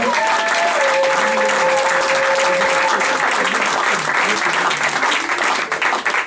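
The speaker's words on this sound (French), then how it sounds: "Est-ce qu'on peut encore acclamer très fort pour la gloire du Seigneur?" A church congregation at a Sunday praise service cheers and applauds loudly and continuously, dense clapping with shouts throughout, a sustained tone running underneath for the first few seconds.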